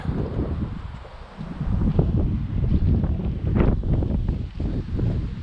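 Outdoors at the launch spot for a small catapult-launched hang glider, wind gusts buffet the microphone in a loud, continuous low rumble that rises and falls. No voices are heard.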